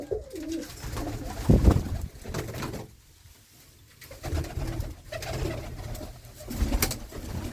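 Pigeons huddled together on a cold day coo in repeated low, throaty bursts, close and fairly loud, with brief quieter pauses between calls and no talk.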